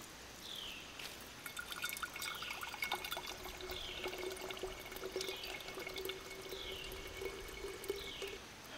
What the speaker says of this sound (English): You can see the water coming out here.